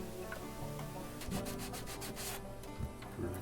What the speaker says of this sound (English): kind of smooth out those frets, make sure there's no little stringy spots